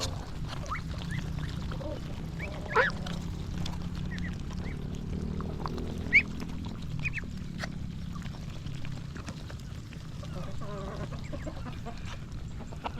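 Ducks and native chickens quack and cluck intermittently nearby over a low rustling background, with a couple of sharper calls standing out.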